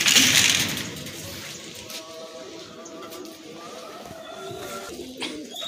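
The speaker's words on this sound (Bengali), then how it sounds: "পায়রা ছাড়া হচ্ছে" Racing pigeons released during a West Bengal pigeon flying tournament, with soft cooing and bird calls over outdoor ambience and a brief louder rustle at the start.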